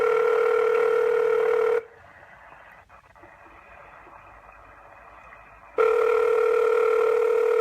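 A telephone ringback tone sounds on a recorded sales call, a steady electronic tone that drops out into line hiss for a few seconds and then resumes.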